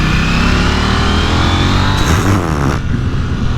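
A 2021 KTM 890 Duke R motorcycle engine accelerating hard, a loud rising rev that climbs steadily, then a sharp gear change and a brief dip before it picks up again.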